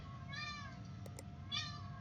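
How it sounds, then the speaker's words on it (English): A house cat meows twice, two drawn-out close cries about a second apart, with a couple of faint clicks between them over a low background hum. "My cat's kicking off now."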